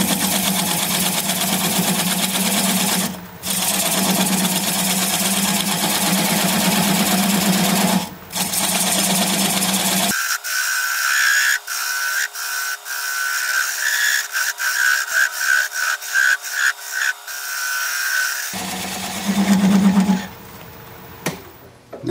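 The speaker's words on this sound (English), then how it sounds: "I'm going to take a 3/8" standard grind bowl gouge and commence to removing that tenon." Wood lathe spinning a bowl at a little over 500 RPM while a 3/8-inch standard grind bowl gouge cuts away the tenon, a steady motor hum with a series of rhythmic tool-contact bursts in the middle, loud and close.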